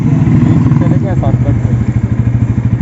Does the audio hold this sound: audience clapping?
no